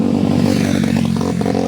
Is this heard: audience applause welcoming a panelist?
no